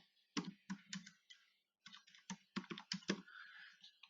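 Rapid clicking keystrokes on a computer keyboard, tapped in two short bursts separated by a brief pause, close and fairly quiet.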